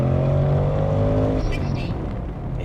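A 2024 Ford Mustang GT with manual clutch launching on launch control, its V8 engine holding a loud, steady droning roar close by, then bogging and fading into rough rumble.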